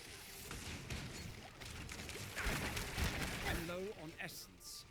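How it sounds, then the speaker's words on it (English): Corpse explosions in the video game Diablo 4 go off as a burst of booming, crackling blasts during a necromancer fight, loudest through the middle and mixed with other game noise. "Everything just starts blowing up, and I do think that corpse explosion is really powerful."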